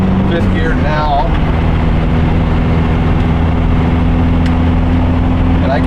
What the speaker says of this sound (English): You really hear the turbo.